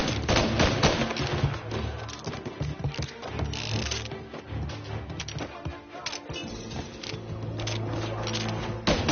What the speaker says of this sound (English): We're gonna throw some lead!